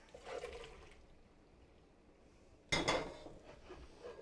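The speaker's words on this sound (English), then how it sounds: "And we actually want to drain the potatoes" Cooking water from boiled yellow-flesh potatoes is poured off in the kitchen, a brief splash and soft rush at first, then near quiet, then a loud sudden gush of draining water that fades out, with no talk.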